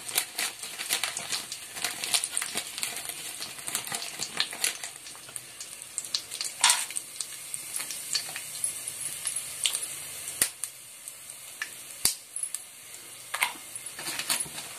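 Whole spices such as marathi moggu, nutmeg and bay leaves frying in oil for pulao, a faint crackling sizzle broken by scattered sharp clicks and spatters, fairly quiet throughout.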